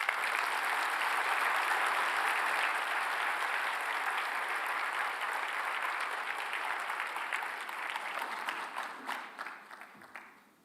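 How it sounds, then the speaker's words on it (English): Audience applause after a talk at an international seminar, a sustained wash of clapping hands that stays strong before thinning out and fading at the end. "You've heard everyone applauding for you"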